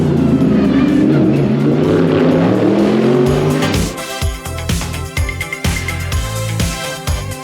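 An IndyCar roars past at high revs at the Long Beach street circuit hairpin, then downshifts with sharp popping bursts as it slows for the corner; loud and close.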